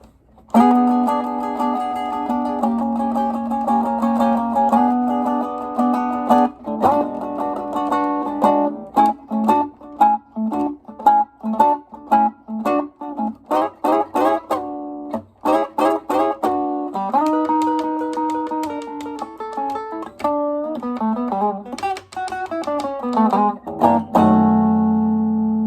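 Electric blues guitar in an early Chicago style works through a second 12-bar chorus, alternating sustained chords with choppy single-note licks and a slowed turnaround. It is played solo, up close, with steady, clear volume and no talking.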